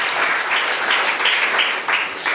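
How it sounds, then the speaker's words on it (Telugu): A church congregation claps together in a loud, dense burst of applause that carries on steadily with a few uneven swells, and no voice rises above it. "చప్పట్లు కొట్టండి ఒకసారి."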